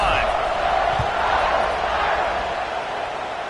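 A football stadium crowd at a Notre Dame versus Mizzou college game roars steadily at kickoff, a dense, loud wash of cheering that holds throughout without breaks.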